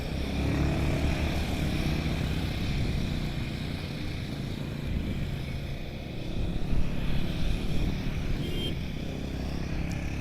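Rental motorbikes riding past at Magnetic Hill near Leh, engines droning and rumbling steadily at moderate distance, a continuous low growl that swells slightly as bikes pass.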